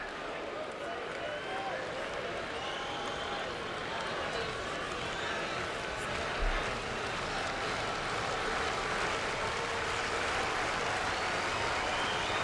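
A near-capacity baseball stadium crowd cheering and applauding as a broad, steady roar with a distant hollow wash, while an announcer talks over it.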